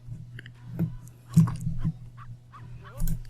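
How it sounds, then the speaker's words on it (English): A puppy in The Sims 3 video game gives short barks and soft whimpers in a few separate bursts over a low steady game hum, close and moderately loud. "Look at that cute puppy."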